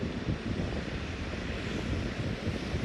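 A John Deere tractor drives past in a steady rumbling wash of engine noise mixed with wind buffeting on the microphone, fairly loud and unbroken throughout.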